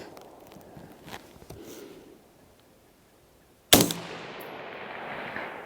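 Gunfire from other shooters at an outdoor rifle range: a few faint, distant pops, then one sharp, loud crack that rolls into a long echoing tail.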